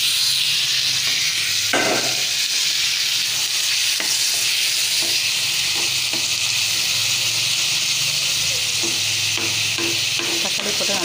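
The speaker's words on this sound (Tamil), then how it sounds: "தக்காளி போட்டு நல்லா கலரிடுங்க" Tomatoes being stirred into sautéed onions for a fish gravy, a loud, continuous sizzle with a few scraping spoon strokes against the pan, close up and with no talk.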